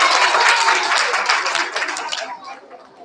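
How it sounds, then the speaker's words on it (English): Kindergarten and first-grade children and families applaud AB honor roll students at a school awards assembly, a steady burst of clapping with some chatter that fades out toward the end. "give them a round of applause for being on the AB honor roll"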